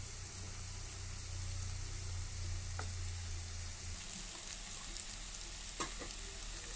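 Pesarattu masala curry being stirred in a frying pan, a soft continuous sizzle with a low background hum and a few faint scrapes and taps of the spoon.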